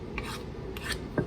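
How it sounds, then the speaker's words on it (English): A spoon scraped against the bowl while mixing blueberry muffin batter, a few soft rasping strokes, quiet and close, with no talking. "I'm going to go ahead and scrape my spoon off a little bit here."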